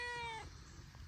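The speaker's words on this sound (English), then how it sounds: "This is our typical morning kitty greeting." A house cat gives a short, clear meow as a morning greeting, then goes quiet, leaving only a faint background hiss.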